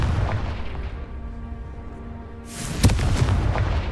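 A Confringo spell explodes in the Hogwarts Legacy video game, a sudden loud boom with a crackling burst that follows a low rumbling hum.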